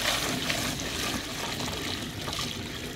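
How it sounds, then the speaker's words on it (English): Water poured quickly in one go into a bin of quicklime kibble for hot-mixed lime mortar, a steady loud trickling and splashing rush that runs without a break from start to finish. "So we pour this in there as quickly as possible and all in one go"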